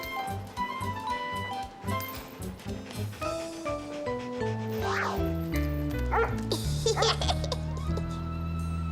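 A cartoon dog barks and yips in short bursts over a busy musical background with bright melodic tones, the barking mixed in rather than standing alone.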